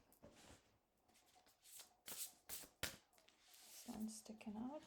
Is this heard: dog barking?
no